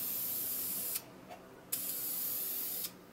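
Deft lacquer hisses from a good-quality aerosol nozzle onto a woodturned handle in three sustained, close bursts separated by short pauses.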